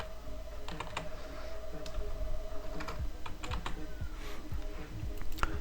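Typing on a computer keyboard while filling in an online mediclaim form, irregular quick key clicks at close range over a low steady hum.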